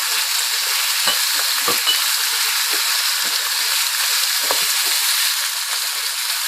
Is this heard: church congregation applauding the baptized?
no